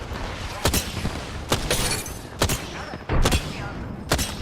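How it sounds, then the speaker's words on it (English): Gunfire from enemy outlaws in a video game crackles in sharp, separate bursts spaced about a second apart, loud and close, with a brief rapid cluster near the middle. "The enemies are shooting at me. Outlaws are shooting at me."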